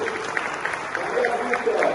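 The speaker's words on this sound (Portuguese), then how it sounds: "Salve de palmas para Jonathan!" Audience applause at a software engineering talk show, brief and fairly dense clapping from a small crowd, moderately loud, with voices faintly mixed in.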